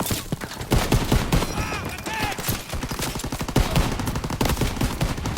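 Dense machine gun fire rattles continuously in Call of Duty level 9, with loud rapid bursts and scattered single shots filling the whole stretch up close.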